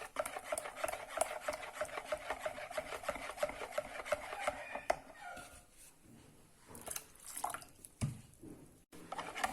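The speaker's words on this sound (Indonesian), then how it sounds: "Aduk sampai adonannya ini halus ya, tidak ada bagian yang menggerindil, sambil terus ditambahkan airnya ya." Risoles batter being stirred smooth in a bowl as water is gradually added: quiet, rhythmic scraping and rubbing strokes up close, easing into softer, sparser movements and small splashes.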